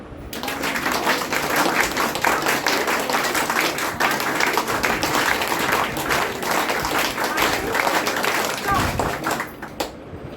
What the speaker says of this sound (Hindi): जब मैं बोलूंगी तब ताली बजाना